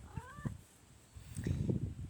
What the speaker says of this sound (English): But she's a great cat.